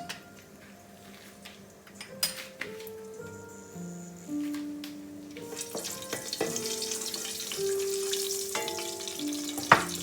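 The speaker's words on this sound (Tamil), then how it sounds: "கடுகு நல்லா பொரியட்டும்" Mustard seeds splutter and pop in hot oil in a pan for aubergine curry, the crackle building into a dense, steady sizzle with scattered sharp pops.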